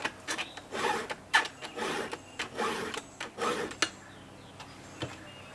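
A square file sharpens a saw chain in quick, rhythmic rasping strokes, about a dozen close scrapes in a row before a couple of lighter, spaced strokes at the end.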